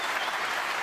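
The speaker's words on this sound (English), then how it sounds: "The crowd acknowledged that was the moment when Matthew Selt's hopes were extinguished." Audience at a snooker match bursting into a brief, dense round of applause, close and loud from start to finish.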